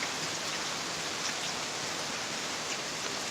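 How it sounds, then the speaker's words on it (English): Heavy rain and wind roar steadily through a severe thunderstorm in Pittsburg, Kansas, a dense, unbroken hiss that stays loud and even throughout with no voices. "the wind and the rain, and I'm getting sprayed in the face"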